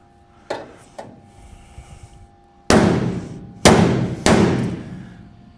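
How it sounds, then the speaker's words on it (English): Two light taps followed by three loud, ringing blows from the broad face of a hammer on metal, spaced about a second apart, close and sharp, during firewall work on a 1937 Lincoln Zephyr. "I'm gonna hit it with the big fat side of the hammer"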